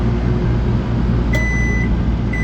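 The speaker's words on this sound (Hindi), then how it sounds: "ये भाई साहब माइक्रोवेव के अंदर खाना हमारा खैर से घूम रहा है।" A microwave oven hums steadily with food turning inside, loud and close, with a brief faint beep and tone partway through.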